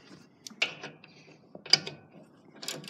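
A ratchet tightens a bolt on a John Deere 7000 planter gauge wheel, giving quiet, irregular bursts of close mechanical clicks with short pauses between them.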